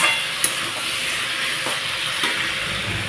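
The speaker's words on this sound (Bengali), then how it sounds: "তো জিরের গুঁড়োটা দিয়ে একটু নাড়াচাড়া করে নেব।" Cumin powder being stirred into food sizzling in a pan, with a constant frying hiss and a few sharp scrapes and clicks of a utensil against the pan, near and clear with no talk.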